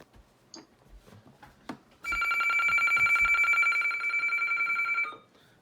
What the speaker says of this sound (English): So that's another radio that sounds like a telephone